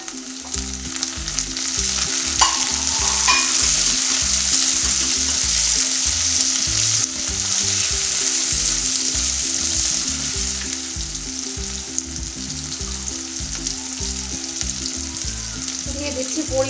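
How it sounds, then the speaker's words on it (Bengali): Chopped tomato hits hot oil with garlic and onion for a spicy stingray curry (shankar macher jhaal), giving a loud, steady sizzle with stirring scrapes throughout and no talking. "এখন আমি এর মধ্যে দিয়ে দিলাম টমেটো কুচি।"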